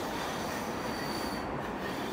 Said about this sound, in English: Forgive the sounds of the Budapest trams